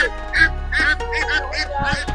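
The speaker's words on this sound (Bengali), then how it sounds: "তো এখানে একটা হাঁস দেখা যাইতেছে" A duck at a village livestock market quacks repeatedly up close, loud nasal calls in quick irregular bursts over a low background hum of the market.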